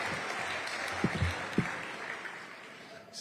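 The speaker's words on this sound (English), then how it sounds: "Can we give a huge round of applause?" Applause from the audience at the 2025 Kauaʻi State of the County Address, a steady wash of clapping held at an even level for about three seconds with a few louder claps poking through.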